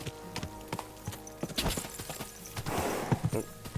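Horse hooves clip-clop across rough off-road terrain in the video game Kingdom Come: Deliverance II, a rhythmic series of dull thuds with faint creaks and tack jingle over a low ambient bed.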